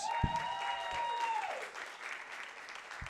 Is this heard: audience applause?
yes